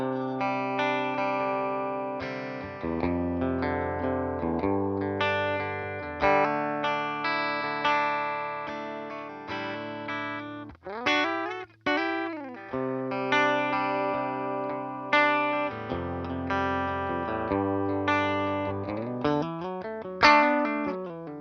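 An electric guitar plays through the classic channel of a Mojotone Blackout Tweed amp, sounding loud and close, with ringing chords and single-note runs, a few quick bends, and no talking.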